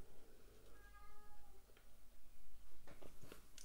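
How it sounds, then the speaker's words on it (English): A cat meowing in the background of an indoor room, one drawn-out meow followed by fainter cries under room noise and some handling sounds. "Please just ignore the cat in the background meowing."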